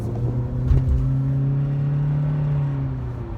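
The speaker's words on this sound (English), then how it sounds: "Let's see how this engine hums." A 2018 Honda Accord Sport with a 1.5 engine pulls away from a stop sign in sport mode, heard from inside the cabin as a steady, rising engine hum with low rumble, holding smooth and fairly loud throughout.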